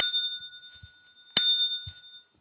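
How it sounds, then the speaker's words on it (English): A small bicycle-style bell rings twice in bright metallic dings, close and loud, each one decaying slowly into near silence. "let's ring the bell for Jake and Brooke with Team Platform"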